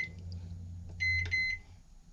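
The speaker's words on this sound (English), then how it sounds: "And so we're going to put the plastic in the microwave." A microwave oven hums steadily as it heats plastic for homemade fishing bait, then gives a short cluster of clear, high electronic beeps near the end.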